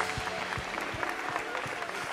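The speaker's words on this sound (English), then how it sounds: "Let's clap our multiplied hands." A church congregation at a live worship service claps hands in a steady rhythmic beat, a dense crowd sound with drums and music underneath.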